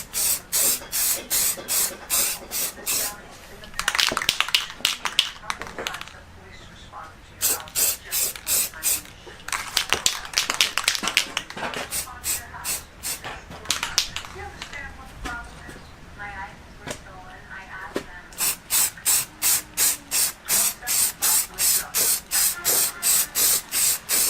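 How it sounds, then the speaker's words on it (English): Spray paint can coating the engine bay of an S13 Nissan 240SX with flake, heard as bursts of sharp hiss that repeat in quick rhythmic pulses at close range, with people talking between the sprays. "you can paint a bay with just spray paint and it actually looks good too"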